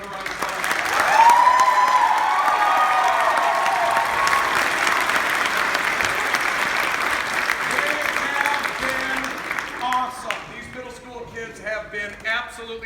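A school audience loudly applauds and cheers the middle school cast and crew of a Seussical musical production. The sustained clapping fills most of the stretch, then thins out as a voice begins speaking near the end.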